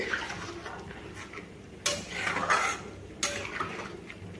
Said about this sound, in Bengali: নুন দেবার পরে একটু ভালোভাবে এভাবে মিশিয়ে নেব